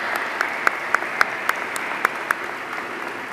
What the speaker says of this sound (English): If you could give a round of applause for Mr. Homer, who's retiring.